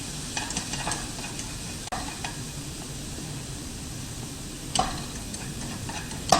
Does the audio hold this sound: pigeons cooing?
no